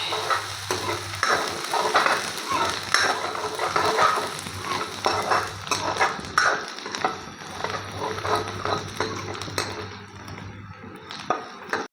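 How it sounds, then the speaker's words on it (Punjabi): Pounded spice masala frying in hot oil for a bottle gourd curry, a loud continuous sizzle broken by rapid, repeated scraping stirs of a spoon against the pan, close by. "ਮਸਾਲੇ ਨੂੰ ਆਪਾਂ ਚੰਗੀ ਤਰ੍ਹਾਂ ਹੁਣ ਭੁੰਨ ਲਾਂਗੇ"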